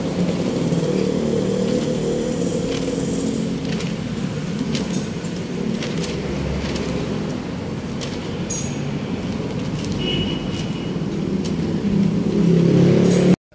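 A Rusi motorcycle engine running, a rough rumbling drone that rises toward the end, fairly close amid outdoor street noise.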